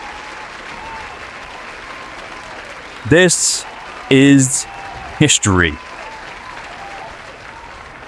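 Crowd applause and cheering at the end of a hockey cup final, a steady wash of clapping throughout with a commentator speaking over it in several short bursts.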